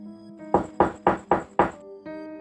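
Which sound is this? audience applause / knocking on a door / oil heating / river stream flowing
knocking on a door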